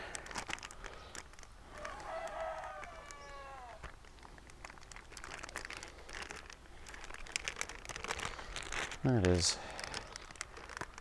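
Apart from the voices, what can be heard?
plastic freezer bag crinkling as a rooster is bagged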